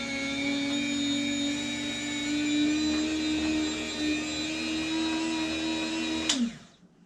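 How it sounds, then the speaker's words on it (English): Electric meat slicer cutting meat into thick jerky strips, about an eighth of an inch, a steady loud motor whine with a fixed pitch that runs almost the whole time, then winds down and stops near the end. "I got this thing set to about an 1/8 inch thick. So that should be a nice thick slice for jerky."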